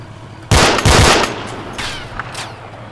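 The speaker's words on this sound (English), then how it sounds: "That gun sounds so fucking cool, dude." A gun fires in the military shooter Arma 2: a loud, close burst of rapid shots followed by a couple of fainter, more distant reports fading into the game's background noise.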